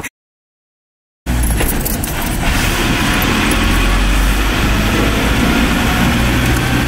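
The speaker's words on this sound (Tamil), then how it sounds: "அந்த பக்கம் ஏதோ ஒரு வண்டி வந்து நிற்கிது." A vehicle pulls up on a forest road at night near Hogenakkal, its steady engine drone loud and close after a brief silence, holding a broad low rumble throughout.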